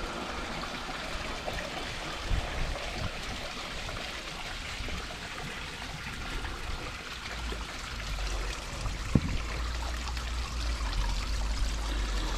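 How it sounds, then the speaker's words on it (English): Water from a pool filter being drained through an opened air release, a steady close gushing and trickling stream running throughout with no voices. "Open up the air release, get all the water out."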